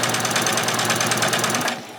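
A sewing machine stitches a fabric ruffle at a slow, steady pace, its rapid needle chatter running continuously and close up before stopping abruptly near the end.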